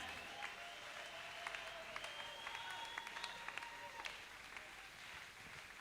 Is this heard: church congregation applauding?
yes